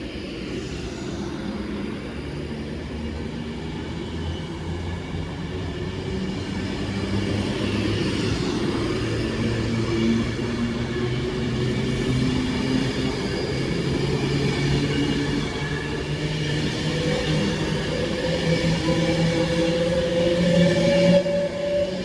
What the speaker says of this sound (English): there goes the 1039 Avanti West Coast service from Lancaster to London Euston